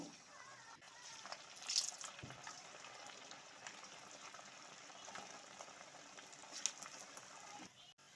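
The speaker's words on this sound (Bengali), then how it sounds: "এবারে এগুলো আমি ভেজে নেব" Kochuri pakoras frying in hot oil at medium heat, a steady soft sizzle and bubbling with a couple of sharper crackles and spatters, close by and without talk.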